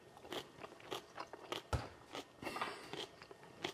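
Close, crisp bites and crunchy chewing of a fresh nasturtium vegetable wrap, with repeated irregular crunches and one sharp snap, no talking.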